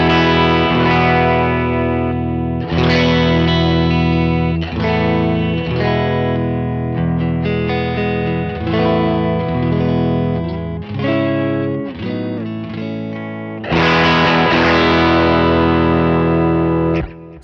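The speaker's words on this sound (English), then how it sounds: "This is the clean tone. It's gonna overdrive a little, especially on the bridge pickup on a Telecaster here." An electric Telecaster on the bridge pickup plays through a '67 Vibe Luxe amp patch on a Line 6 Helix, loud sustained chords with a light overdrive edge, strummed in phrases with brief gaps and a strong, bright attack on each new chord.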